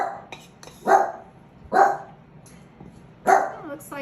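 Several dogs bark in a home kitchen, with three loud bursts a second or more apart and a small yip between them, heard fairly close and without talk.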